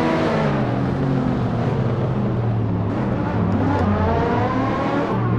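A Ferrari F40 engine in Assetto Corsa, loud and close, holding a strong harmonic drone whose pitch rises and dips as the car revs and shifts, continuous for the whole stretch with no talk.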